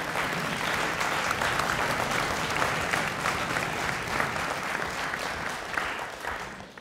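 At a French debating championship, the audience applauds as the secretary general is called up, a full, sustained clapping from a sizeable crowd that holds steady and then eases off at the end.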